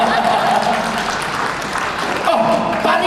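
Sparse audience clapping at a seminar, a thin steady patter of hands running under a speaker's amplified voice throughout.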